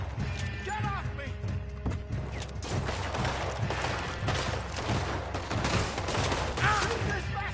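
Gunfire from a Red Dead Redemption 2 shootout, dense overlapping shots crackling through a busy mix with horse hooves and game voices nearby.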